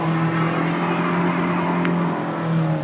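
Truck engine accelerating during a test run, a steady loud drone heard from inside the cab, with no talk.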